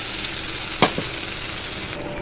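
Water poured over frying fish curry in a hot pan hisses in a steady, close sizzle, with a brief sharper splash of liquid hitting the oil partway through.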